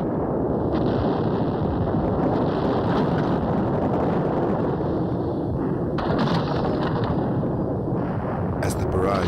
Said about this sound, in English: artillery from two nearby fire bases opens up and pounds the perimeter